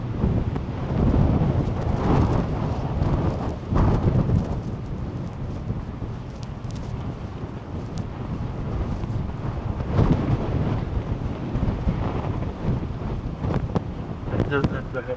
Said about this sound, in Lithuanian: Jo, vėjas tai nerealus.